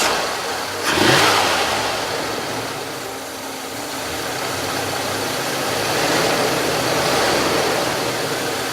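The engine of a classic American luxury car cranks and catches with a loud burst, then settles into a steady, rumbling idle with slight swells in revs, heard up close and alone.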